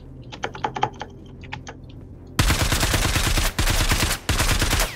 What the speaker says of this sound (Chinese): 谁在开枪啊？